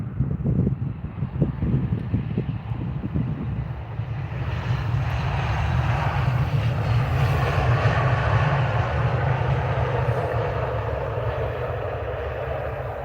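An ITA airliner in from Milan lands at Edinburgh Airport, a broad roar of jet engines building from a low rumble into sustained loud rushing noise that holds steady, with no voices.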